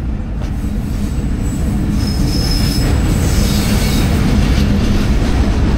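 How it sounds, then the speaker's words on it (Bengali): A train rolls steadily past at close range, its wheels squealing in sustained high whines over a loud, continuous rumble of cars on the rails, with no talking. "আর এখন একটা ট্রেন আইতাছে"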